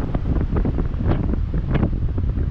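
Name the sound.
wind blowing at the sea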